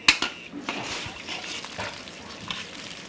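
Chana dal (split chickpeas) roasting in a little oil in a pan gives a faint sizzle, with stirring scrapes and a few clinks, under soft talk.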